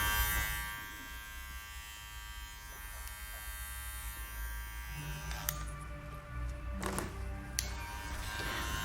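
Electric hair clippers hum steadily and close up, their blade set low on a zero guard at the intermediate setting while trimming and blending a fade at the sides of a client's head, with a few brief clicks and scrapes toward the end.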